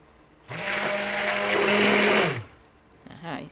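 A hand blender whirs steadily for about two seconds as it mixes citronella soap batter, a loud close motor drone that stops abruptly and leaves a brief rustle of handling afterward.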